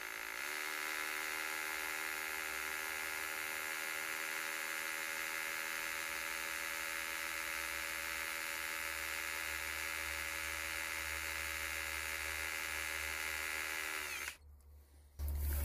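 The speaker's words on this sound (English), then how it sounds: "we're just going to drill slowly through the phone holder there" A steady, high-pitched electric drill whines continuously for about fourteen seconds, boring slowly through a plastic hammock phone holder, then cuts off abruptly followed by a brief low thump.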